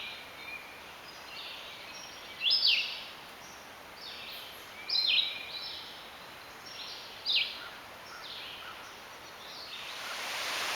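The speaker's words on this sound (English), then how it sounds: "There's some red-eyed vireos around here" Three short, faint bird phrases from a red-eyed vireo in woodland, spaced a few seconds apart, carried over a soft, steady background hiss.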